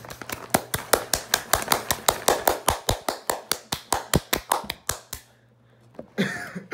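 Hands clapping in a fast, steady run of about thirty sharp claps, close and fairly loud, stopping abruptly, followed by a short burst of noise at the end.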